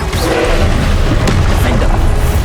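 A Confringo spell explosion in Hogwarts Legacy: a loud, continuous deep boom with rumbling low end that fills the whole moment, close and heavy.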